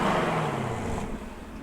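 A 2019 Chevrolet Camaro SS engine rumbles steadily nearby with a broad, throaty roar that eases slightly toward the end; no talking.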